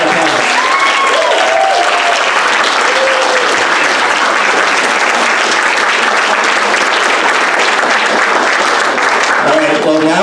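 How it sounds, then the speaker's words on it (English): Sustained loud applause from a graduation audience celebrating graduates, steady dense clapping throughout with a few cheers and voices rising above it. "Let's give them a huge round of applause."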